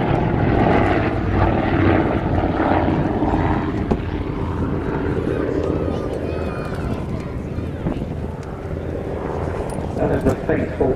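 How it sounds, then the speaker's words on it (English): An Avro Anson (Avro 19) flies at the Shuttleworth season premiere airshow, its steady propeller-engine drone filling the air at a distance while an announcer talks over it throughout. "That is the faithful Annie in Royal Air Force Service, the Anson."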